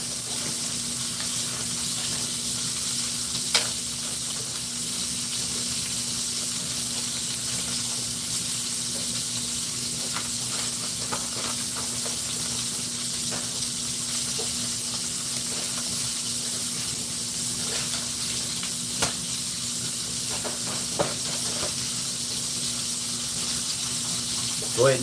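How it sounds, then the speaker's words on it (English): Rib eye steak sizzles in a skillet as a steady broadband hiss with faint crackles, continuous and even at moderate level throughout, with a low hum underneath. "turn the skillet off now and let it finish sizzling"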